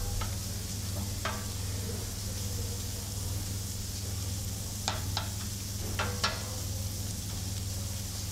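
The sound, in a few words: wine vinegar added to cabbage sizzling in the pan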